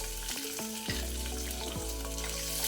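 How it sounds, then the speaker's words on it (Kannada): Ginger pieces and fenugreek seeds fry in hot oil in a pan, giving a steady close sizzle with faint stirring clinks and scrapes throughout, with no one talking. "ಇದನ್ನೀಗ ಸ್ವಲ್ಪ ಫ್ರೈ ಮಾಡ್ಕೊಳ್ಳೋಣ. ಮೆಂತೆ ಕೆಂಪಾಗಿದೆ"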